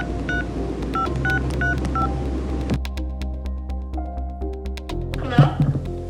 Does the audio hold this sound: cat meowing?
no